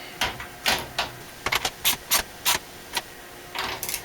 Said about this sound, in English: So I just want to go ahead and tighten this fitting back up.